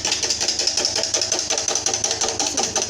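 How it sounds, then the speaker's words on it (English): An electric mixer whips eggs for a coconut carrot cake batter, giving a steady whir with a fast, regular pulsing beat that stays close and constant throughout. "I'm going further now to whipping of my egg."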